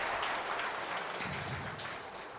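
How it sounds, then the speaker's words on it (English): Crowd at a men's pairs grand final roaring in steady, dense cheering and applause that holds loud for a couple of seconds, with no one speaking over it. "Crowd gets loud."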